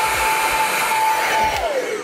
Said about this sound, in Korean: 이럴 때는 드라이기를 해주면 됩니다